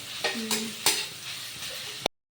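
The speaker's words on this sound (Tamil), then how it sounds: "வெங்காயம் வந்து நல்லா வதங்கிடுச்சு. நெக்ஸ்ட் நம்ம மஷ்ரூம் போட்டுக்கலாம். இது போட்டு நல்லா வதக்கலாம்." Onions and mushrooms sauté in a home kitchen pan, a steady broadband sizzle with a few sharp stirring scrapes and clinks standing out, close and moderately loud, with no talk.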